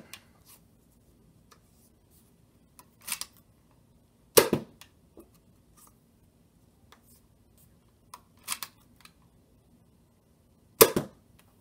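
Modified Nerf Tech Target blaster shooting Adventure Force Wafflehead foam darts: five sharp, snappy shots spaced a few seconds apart, close and clear, with near silence in between.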